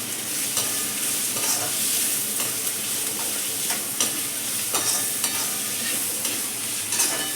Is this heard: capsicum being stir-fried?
yes